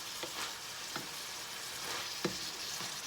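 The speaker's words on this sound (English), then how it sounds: "We're going to go ahead and put that in and let it start cooking" Minced garlic fries in a pan, giving a soft, steady sizzle with a few brief stirring scrapes, heard close and alone with no talking.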